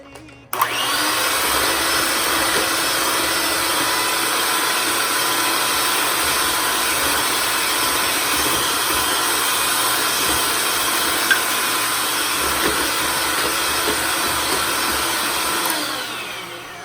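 An electric beater whirs steadily through cake batter as oil is added, a loud, even motor drone that starts abruptly, holds for about fifteen seconds, then cuts off, close by with no voices.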